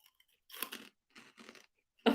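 Crisp crunching bites of a crunchy snack come in several short bursts with quiet pauses between, close to the microphone.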